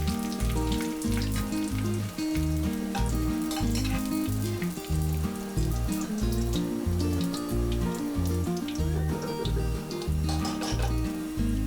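Onions brown in oil for mutton korma, a continuous loud sizzle with rhythmic stirring; a strong repeating low-pitched pattern, probably background music, runs alongside throughout.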